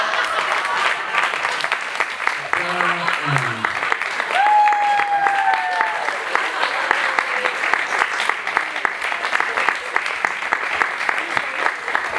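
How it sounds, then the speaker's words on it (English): Audience applause after a short stage play, a dense, steady patter of many hands clapping that carries on for the whole stretch, with a few brief vocal squeals and cheers rising over it. "Everyone, a round of applause."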